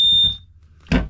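A carbon monoxide detector in an RV gives a sharp high electronic beep that rings and fades, followed by a brief clunk or handling noise close by.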